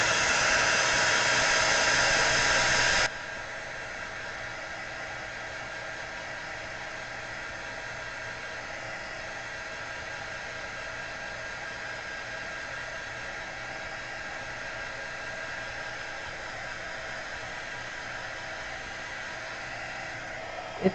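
A hair dryer blows steadily on a watercolor painting, a loud even whoosh that drops to a lower, softer setting after about three seconds and then holds constant without talk.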